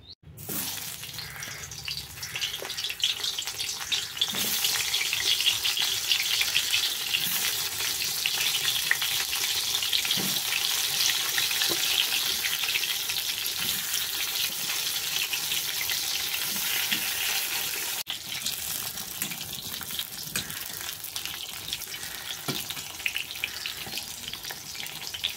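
Seasoned eggplant slices, rubbed with salt, turmeric and sugar, frying in hot oil: a steady, loud sizzle that starts within the first seconds and holds for the rest of the stretch, with a few faint clicks and no talk.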